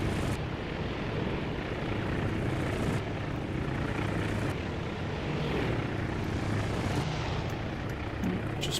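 Propeller carrier aircraft return overhead in the naval combat game Task Force Admiral, their engines a steady, dense droning roar that swells and eases in waves as planes pass one at a time, with no talking.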